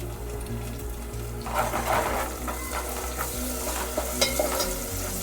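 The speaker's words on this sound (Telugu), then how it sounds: "ఇది కొంచెం పచ్చివాసన అయ్యే వరకు ఫ్రై చేయాలి" Curry leaves and ginger-garlic paste frying in oil for a gongura meal-maker curry, a dense close sizzle with repeated stirring scrapes and a low hum underneath, no voices.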